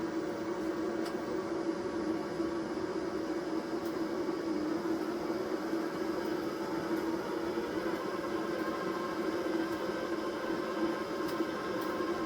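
Tooliom MIG 180 PRO welder feeding 030 wire steadily, a low, even motor hum holding constant from start to finish, close and fairly quiet, with no talking.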